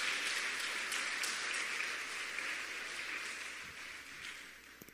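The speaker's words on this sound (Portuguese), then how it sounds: "Vamos agora dar uma oferta de palmas para Jesus, bem forte." A church congregation claps for Jesus during a worship service, a dense, steady applause filling the room for the full five seconds and tapering slightly toward the end, with no speech over it.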